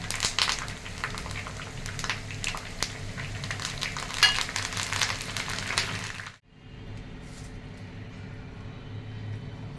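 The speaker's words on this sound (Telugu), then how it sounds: "పచ్చిమిర్చి కూడా ఫ్రై చేసుకుంటాం" Curry leaves and green chilies frying in hot oil for gobi 65, a steady bright sizzle with crackles that cuts out abruptly partway through, then a quieter, softer bubbling continues.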